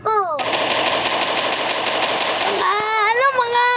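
Rapid automatic gunfire from a gun in Roblox rattles loudly for about two seconds, then cuts off and gives way to a voice.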